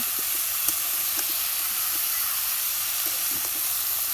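Food sizzling and frying steadily in a pan during home cooking, a constant close hiss with faint crackles and no talking.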